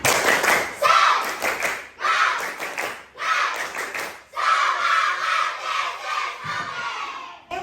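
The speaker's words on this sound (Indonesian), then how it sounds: "Coba tepuk semangat." A classroom group claps a rhythmic spirit clap in bursts, loud, close, patterned strokes separated by brief pauses, with children's voices shouting along.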